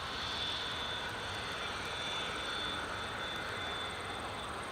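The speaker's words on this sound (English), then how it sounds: "It's a business jet just clear the runway." A business jet clearing the runway at Newcastle International Airport makes a steady, distant, faint engine roar with a thin high whine, with no talk over it.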